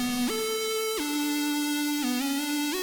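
A buzzy square-wave synth lead plays a short melodic phrase, stepping between a few held notes, bright and steady with no talking.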